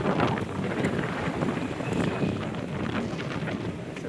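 Strong wind roars steadily across an outdoor hangout spot in San Nicolas, Batangas, a loud, continuous rushing blast buffeting the microphone with no voices.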